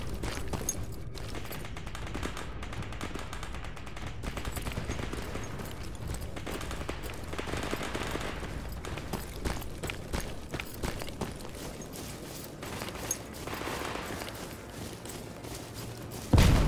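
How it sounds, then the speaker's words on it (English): Distant gunfire in the video game Stalker Anomaly with a sound mod, rolling bursts of far-off automatic shots over a constant ambient rumble, with footsteps and occasional thuds nearby. "you can actually hear distance gun sound quite clearly"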